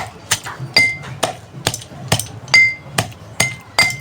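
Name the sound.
crushing jaggery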